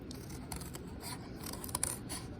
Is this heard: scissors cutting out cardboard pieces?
yes